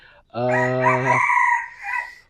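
A captive Sumatran red jungle fowl rooster gives a single loud, close crow, a clear harmonic call that rises and then trails off, with no talk over it.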